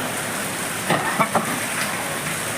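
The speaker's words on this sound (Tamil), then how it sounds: "எப்படி ஒரு கனமழைன்னு பாருங்கள்." Heavy monsoon rain in Kerala falls in a steady hiss, with a few brief louder spatters near the middle and no talking.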